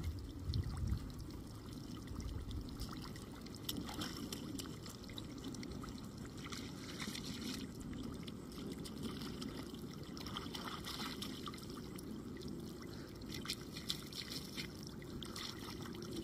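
Water sprays and trickles steadily at an outdoor splash pad, a faint continuous splashing wash with occasional small splats and no voices.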